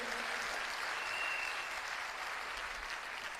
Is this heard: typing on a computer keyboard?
no